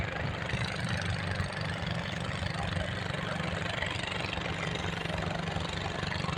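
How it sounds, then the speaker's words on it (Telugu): Tourist boat engine running on the water, a steady low chugging drone heard at moderate distance without pause, with no talk over it. "బోటు పోతుంది చూడది."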